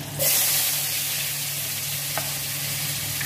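Chopped onion and green chili hit hot oil in a frying pan for a Bengali prawn bhuna, bursting into a loud close sizzle that settles into a steady hiss, with a brief clink partway through.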